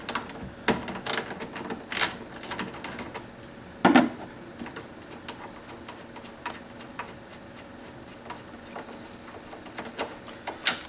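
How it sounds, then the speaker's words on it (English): A socket wrench loosens a 10mm bolt holding a headlight housing to the chassis of a 2007-or-later Subaru Impreza WRX, producing close, sharp ratcheting clicks in scattered bursts with a louder clunk near the middle. "Take your socket wrench,"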